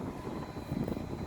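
A truck's engine cooling fan whirs steadily, a dense, low rumbling roar like a propeller with no breaks, loud and close.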